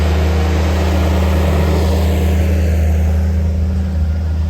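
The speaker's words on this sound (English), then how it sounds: "Tom is using our Avant, another mechanised bit of kit, just to sweep out and create this woodland track." A forestry machine on low-impact tyres drives along a woodland track, its engine giving a loud, steady low drone that stays close throughout.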